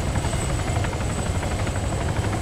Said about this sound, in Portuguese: Quem que tá do meu lado aqui de helicóptero?